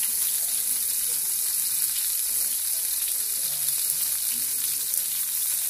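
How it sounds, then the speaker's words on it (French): Vegetables sauté in hot olive oil with a steady, close, even sizzle. Faint spits and light pops sit within the constant hiss throughout. "on fait attention parce que ça saute avec l'huile d'olive"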